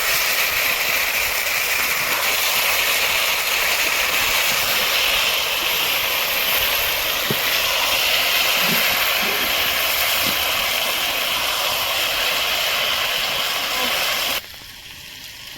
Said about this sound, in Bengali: এখন আমি ভেজে দেবো 1 মিনিট।